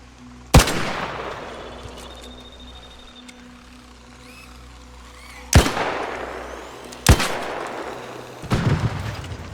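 Three sharp, loud gunshots in the video game Arc Raiders ring out several seconds apart, each trailing into a brief echo over a low steady background hum.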